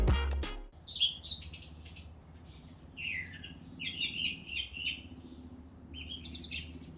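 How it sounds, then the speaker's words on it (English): A bird sings repeatedly outdoors, bright chirping phrases one after another over a soft low background hum, with a brief knock at the very start. "there's a bird up the back of our property, and it's just been singing away all morning"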